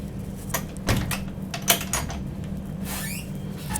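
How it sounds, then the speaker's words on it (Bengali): A train coach door slides and clunks shut with a few squeaky, rattling knocks over the steady low rumbling of the moving train, ending in a sliding scrape. "যেহেতু স্টেশন ছেড়ে গেছে তাই দরজাটা আটকিয়ে দিই"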